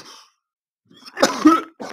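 A single rough cough, followed by a short throat-clearing burst, close to the mic in an otherwise quiet room.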